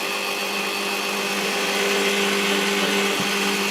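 A tool cuts through metal while threads are tapped for brass inserts, giving a continuous, loud, high whine that holds steady across the whole stretch with no pauses or voices.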